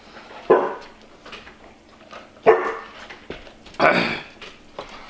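A dog barks three times at spaced intervals, close by, with quiet stretches and faint whimpering sounds between the barks.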